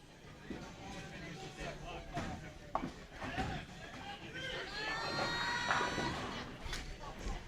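Crowd cheering and chatter at a bowling alley during a professional tournament, a low, distant hubbub of voices with bursts of cheering and pin clatter, rising toward the end.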